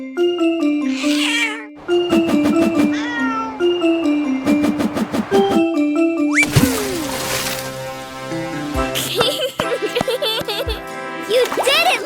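High cartoon kitten meows rise and fall over bright, bouncy music with tinkling notes and plucked tones throughout.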